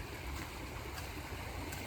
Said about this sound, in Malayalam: നല്ല ഒഴുക്കുണ്ട് എനിക്ക് പറഞ്ഞ തോട്ടിന്